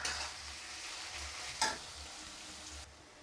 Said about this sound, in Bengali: রসুন থেতো দিয়ে দিলাম, দিয়ে নাড়াচাড়া করছি।